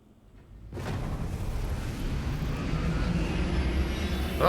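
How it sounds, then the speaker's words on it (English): Deep, steady roar of a spaceship engine in the game Star Citizen, a broad rumbling rush that swells in abruptly and holds loud and continuous with no voices over it. "I guess that's the sound of the engine."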